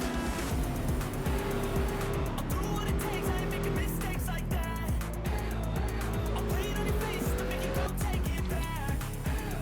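Race cars roaring through a wreck at the Portland oval in NASCAR Racing 2003, with dense, loud, overlapping engine drones, pitch sweeps and tire noise that carry on continuously.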